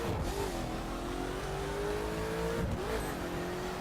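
A Koenigsegg Agera R in the video game The Crew drives with a loud, steady engine drone that dips and shifts pitch as it brakes, with no talking.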